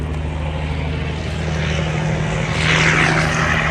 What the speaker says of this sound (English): There's a loud truck.